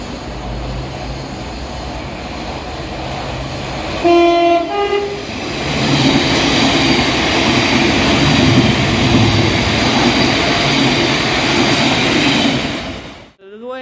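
A train at Erith railway station platform in southeast London sounds a short two-tone horn blast, then rumbles loudly past and close for several seconds before cutting off.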